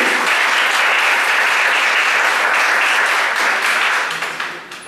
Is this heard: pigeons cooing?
no